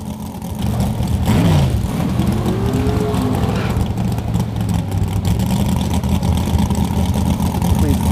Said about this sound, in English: The burnout, because it's the best part.